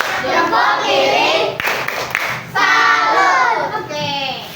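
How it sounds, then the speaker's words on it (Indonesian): A classroom of children chants a rhythmic clap cheer together, with voices rising and falling in unison and a sharp clap or thud partway through, loud and close. "kita beri tepuk salut sekali lagi"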